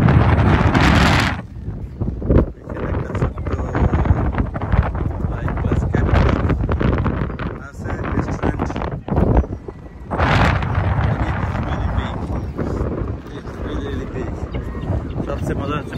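Strong wind buffets the microphone on Camber Sands beach in England, a loud continuous roar with gusty surges, and people talk underneath it.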